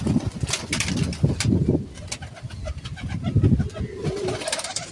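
Several Malwai Punjabi pigeons coo in low, throaty rumbles with a brief flutter of wings, the calls overlapping in a lively loft.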